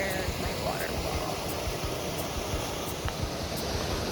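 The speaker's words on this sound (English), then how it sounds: "I got a waterfall in the front yard." Continuous dense roar of a waterfall beside a backpacking campsite at Spruce Knob, steady and close with no pauses, a few faint periodic ticks in the background.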